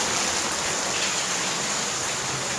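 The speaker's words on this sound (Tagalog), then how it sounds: "Lakas ng ulan." Heavy rain pours down in a steady, dense hiss, constant and loud with no breaks.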